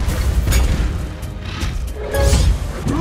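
Explosions in the video game Shiness: The Lightning Kingdom, a few heavy booming bursts with crashing debris, loud and close over roughly three seconds.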